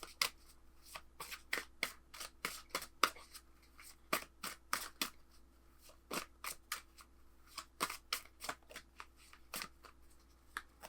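Oracle cards being shuffled by hand, a rapid series of crisp flicking riffles in quick irregular clusters, close and fairly quiet over a low steady hum.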